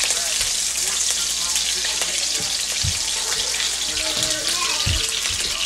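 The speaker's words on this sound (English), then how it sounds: "I'm going to add some butter. So I'll put my onions around a little bit." Onions frying in butter and seasoned oil, a steady close hiss and crackle running throughout with a few soft stirring knocks.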